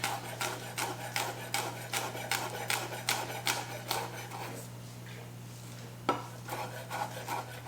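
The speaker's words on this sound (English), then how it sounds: "We are also going to mince up a few sage leaves" Rapid knife chopping through rolled-up fresh sage leaves on a cutting board: a steady run of close, crisp taps that pause briefly, then resume with one sharper knock and a few more cuts.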